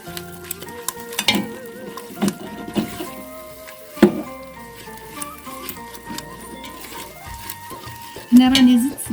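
Eggs stirred into chicken sauce in a pot for chicken and almond pastilla filling, with scraping strokes and soft knocks against a sizzling background and tonal clinks, ending in a louder burst of stirring.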